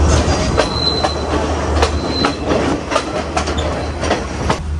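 A Sri Lankan train's general coach running between Ella and Nuwara Eliya, steady close rumble with rhythmic clickety-clack of wheels over rail joints and occasional thin wheel squeals, no voices.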